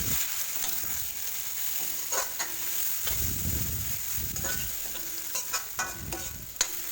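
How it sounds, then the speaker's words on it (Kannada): Chicken for Udupi-Mangalore style koli sukka fries in a pan with a steady sizzle, broken by scraping, clattering stirs of a spoon against the pan, close and fairly quiet. "ನಿಟ್ಟು ಫ್ರೈ ಮಲ್ಪುಗ"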